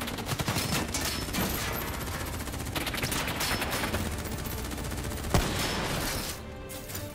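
Dense, sustained gunfire from a Call of Duty Black Ops 3 campaign battle: overlapping automatic bursts and single shots rattle continuously at close range, with a sharp louder crack near the end before the volley thins out.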